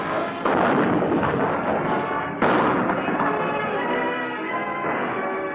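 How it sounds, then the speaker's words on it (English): Tanks firing their guns at targets on a firing range: a dense, loud roar of continuous booming fills the whole stretch, with one sharp fresh blast partway through and no voices. "This time, the tanks are firing at targets they can see."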